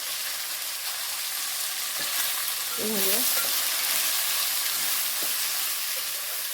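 A mixed vegetable curry, made without onion or garlic, sizzles steadily in hot oil with homemade masala and garam masala while it is stirred, with a few faint scrapes of the spoon over the constant frying hiss.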